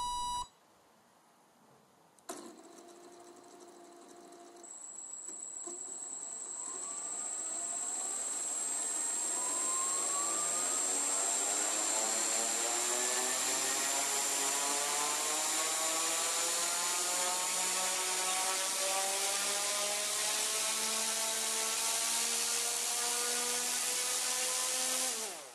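A model Turbo Porter plane engine with a variable pitch propeller, strapped to a heavy wood burner, starts after a beep and climbs to a loud, steady high whine that holds for the rest of the run.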